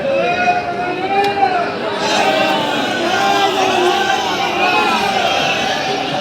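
A large crowd in front of the Shree Mandir temple in Puri voices a sustained, dense chant of Jai Jagannath, loud and continuous with overlapping voices throughout.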